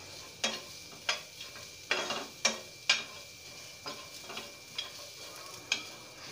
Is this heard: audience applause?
no